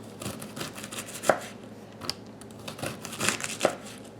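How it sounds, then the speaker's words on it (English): A kitchen knife cuts a head of cabbage into thin julienne strips on a board, a steady run of crisp, close chops with a few sharper hits and no talking. "Okay, I've almost got this cabbage cut up."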